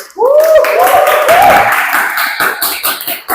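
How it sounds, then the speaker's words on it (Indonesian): Audience at a university lecture session applauds after a correct answer, with a burst of clapping following a brief vocal sound, the claps thinning into scattered taps toward the end. "Silakan beri aplaus"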